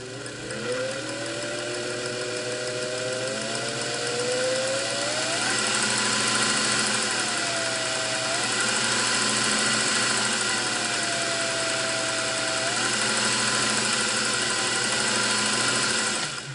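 Singer Model 404 sewing machine running steadily for a long stretch, a continuous mechanical hum and whir at close range with a faint wavering tone gliding up and down over it, no talking.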